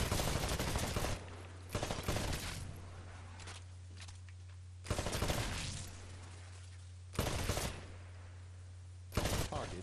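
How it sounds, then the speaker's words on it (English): Rifle fire on the firing range of the video game Titanfall: bursts of rapid automatic shots in several separate volleys, loud and close, over a steady low hum between bursts. "Switch to your rifle."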